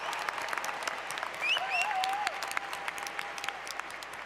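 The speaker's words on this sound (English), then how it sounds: "may I ask we give a big round of applause to Dr. Beverly Vaughn, Professor of Music" Ceremony audience gives a big round of applause to a music professor, steady scattered clapping from a large crowd, with a brief sustained tone and a few soft gliding notes heard over it.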